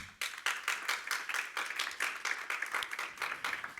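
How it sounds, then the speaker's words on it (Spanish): A congregation at a church sermon claps for the Lord in quick, evenly spaced unison beats, many hands striking together in a steady rhythm, moderately faint and with no talking over it. "¿Cuánto le dan palmas al Señor?"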